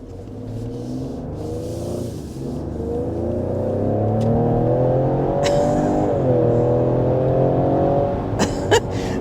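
A 2023 Ford Explorer ST, a 400 hp performance SUV, accelerates hard. Its throaty exhaust and engine note rise steadily through the gears, with a brief dip at a shift, loud and heard from inside the cabin without talk.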